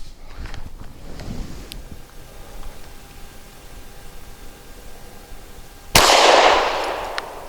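One sharp, loud shot from a Taurus G3 pistol loaded with Speer Gold Dot 115 grain rounds cracks out near the end, followed by a fading ring after a quiet stretch of faint rustling.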